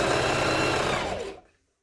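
Sewing machine stitching a curtain, a dense, steady mechanical whir running loud and close for over a second before stopping abruptly into silence.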